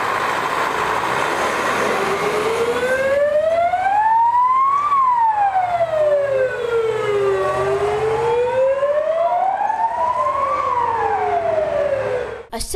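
Fire engine sirens wail loudly and continuously nearby, two overlapping tones sweeping up and down in slow rising and falling cycles, with a low vehicle rumble underneath, at a firefighters' demonstration event.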